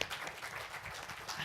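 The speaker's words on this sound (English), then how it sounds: "Give a round of applause," A conference audience claps faintly for a panelist walking on stage, with a soft, even patter of many hands from a distance.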